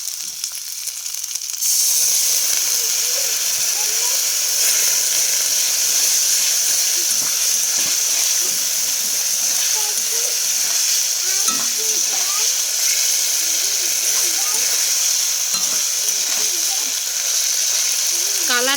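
Food sizzling hard in a frying pan after a little water is added, a loud, steady hiss with popping and stirring scrapes, while a voice talks at times underneath.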